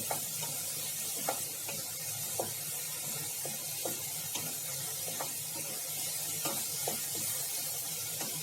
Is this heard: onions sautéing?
yes